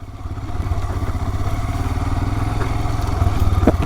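Royal Enfield Himalayan motorcycle engine pulsing hard and steady as the rear wheel spins and slips on dirt off-road, a loud continuous throbbing with clattering and crackling over it, growing slightly louder toward the end.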